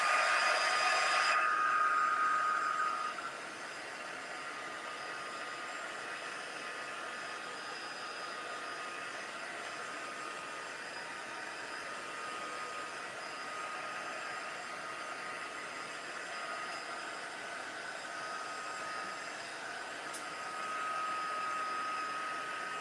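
A heat tool blows steadily over tissue paper layered on a mixed media canvas, a continuous airy whoosh with a louder burst at the start and a slight rise near the end, with no talking.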